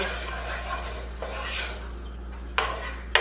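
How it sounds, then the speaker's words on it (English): A spoon scraping and stirring chopped onions in oil in a pan for a vegan chickpea curry, soft rubbing sizzle with a few sharp metallic clinks near the end, close by over a low steady hum. "coat the onions with my oil here"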